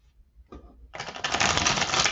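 A deck of tarot cards is shuffled close by, a short riffle building into a dense, crisp rapid flutter of cards lasting about a second, with quiet sounds before it and no voices.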